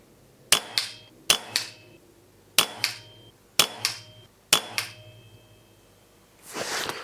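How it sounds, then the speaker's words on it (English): Kral NP02 air rifle fired outdoors at a 50-metre target: five sharp, close cracks spaced about a second apart, each with a short echoing tail, followed by a soft rustling noise at the end. "So I'm just going to shoot the bottom target a sec."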